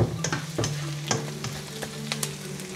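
Squid sizzling and frying in a pan for adobo, its black ink released into the pan, with a steady crackle punctuated by sharp spatters and clinks of a utensil stirring.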